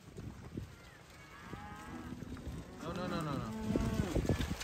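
Cows in an upstate New York pasture, several drawn-out moos overlapping, moderately near over outdoor noise, with a person calling and a brief spoken word.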